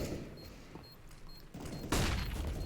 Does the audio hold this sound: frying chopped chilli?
no